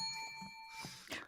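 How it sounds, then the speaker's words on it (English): A bell dings a few times with a bright ringing tone, quiet and close, followed by some soft rustling. "Hey, how's that bell doing for you, Dan?"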